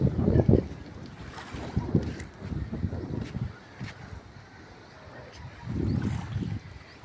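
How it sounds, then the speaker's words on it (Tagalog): Strong wind at sea off Guimaras, blowing in rough gusts across the microphone with steady water wash beneath, surging louder near the start and again toward the end. "Okay, so medyo mabaskog ng hangin guys."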